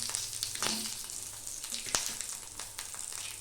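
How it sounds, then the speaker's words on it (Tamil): Mustard seeds, cumin, curry leaves and two chillies sizzle in a little hot oil, a dense crackling hiss scattered with sharp pops and spatters, close and steady without speech. "கடுகு போட்டுக்கலாம். சீரகம், கருவேப்பிலை, காரத்துக்கு 2 மிளகாய் போடுறேன்."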